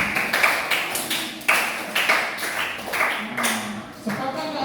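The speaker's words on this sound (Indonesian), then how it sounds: "Tepuk tangan dulu." A primary school class of children claps together in a classroom, a few quick rhythmic bursts of hand claps that are close and loud, with young voices mixed in.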